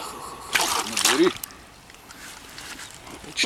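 A large carp thrashes and splashes water onto a mat, producing a couple of close, loud splashes and sloshes followed by quieter dripping, with a person's voice nearby.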